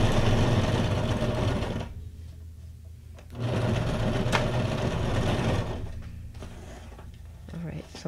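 A sewing machine stitches a paper pocket for a junk journal in close, rapid mechanical bursts with short pauses between runs, and a voice talks softly in between.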